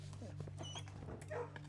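A dog in the kennel of the video game Blue Prince gives short yips and whimpers, faint and brief, over a steady low game hum and background sounds.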